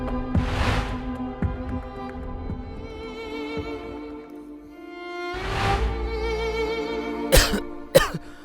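An elderly man coughs and clears his throat, with two harsh bursts several seconds apart and a couple of short sharp hacks at the end, heard close and alone without talk.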